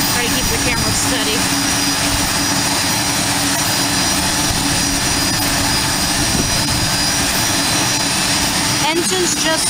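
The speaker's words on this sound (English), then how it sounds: "Engines just started." Aircraft engines, just started, run loudly and continuously at close range at Aurora Municipal Airport, a broad steady roar with a high whine layered on top throughout.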